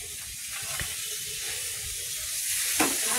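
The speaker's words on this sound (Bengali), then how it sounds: "এই মাছগুলো সব ভাজা হয়ে গেছে" Fish sizzling as it fries in a pan on a gas stove, a steady broadband hiss with occasional spatters and a brief louder burst near the end, close and continuous with no talk.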